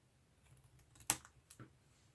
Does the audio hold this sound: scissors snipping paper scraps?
yes